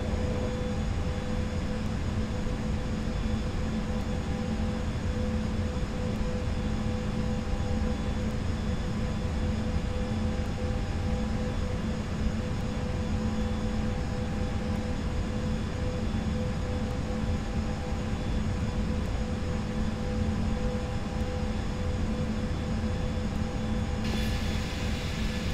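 Aerosoft A320 jet engines in a flight simulator roar in a steady, loud, continuous drone through a takeoff roll, with a constant tonal hum underneath and no speech.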